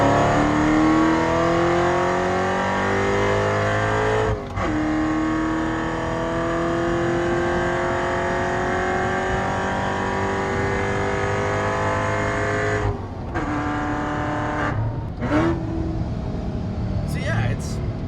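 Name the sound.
Ferrari 488 Spyder accelerating hard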